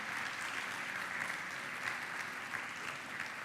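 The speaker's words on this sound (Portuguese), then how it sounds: "Aplaudir Ele em nome de Jesus, bem forte, bem forte." Steady applause from a church congregation, a continuous even patter of clapping heard at a distance, with no pauses.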